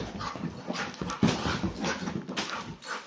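A dog whimpers and whines in short, uneven bursts over about three seconds, fairly close and moderately loud, with soft movement noise around it and no talking.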